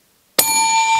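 A bright bell ding for a subscribe-button prompt: one sharp clear strike that rings on as a sustained metallic tone to the end.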